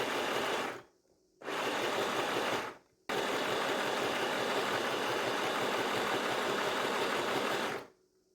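A sewing machine runs in three bursts while stitching a cropped pashmina hoodie, a fast steady whirring that stops briefly twice, then runs for several seconds before halting.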